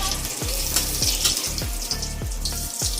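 Eggplant slices frying in hot oil, a steady dense sizzle with regular soft thumps and clinks from a utensil roughly every half second, close and continuous without talking.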